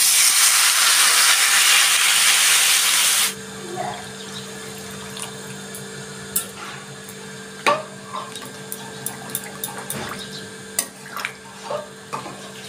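Water is poured into a pan of hot kohlrabi curry, giving a loud burst of hissing steam for about three seconds, followed by quieter bubbling, sizzling and light clinks.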